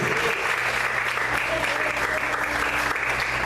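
A large church congregation claps continuously, a dense, even wash of applause that stays loud throughout with faint voices beneath.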